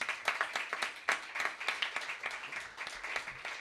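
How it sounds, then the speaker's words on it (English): An audience applauds at a live talk show, a steady patter of clapping hands at moderate distance, lasting a few seconds with no voices over it. "Please give them another round of applause."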